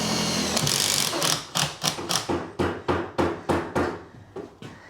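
A power tool whirs in short repeated bursts, about a dozen sharp pulses in a row, each rising and cutting off as self-tapping screws bite into steel during garden room construction.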